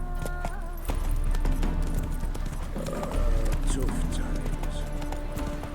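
Roach the horse galloping in The Witcher 3, hooves clip-clopping steadily under a man's spoken line and game music, with a brief whinny-like tone midway.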